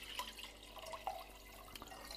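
Strained water kefir being poured into a jam jar, a faint trickling and dripping of liquid with small splashes, quiet and close.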